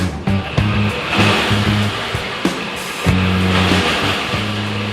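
A car engine runs and is revved in bursts while BG air intake cleaner is fed in, a rough idle with repeated rising surges of the engine.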